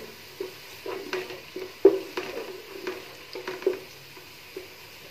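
Chopped onions fry in hot oil in a pan for kofta biryani, with steady sizzling broken by repeated scraping stirs of a spoon, close and fairly quiet, with no voices.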